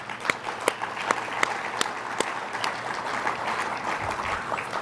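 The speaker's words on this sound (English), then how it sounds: "I think you all deserve a round of applause" Conference audience at a water industry forum applauding, a dense, steady clapping of many hands with a few sharper claps standing out, sustained throughout.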